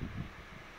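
A chrome 30 cm desk fan blows air in a steady, broad whoosh with low buffeting gusts at the start, close and fairly quiet with no talk.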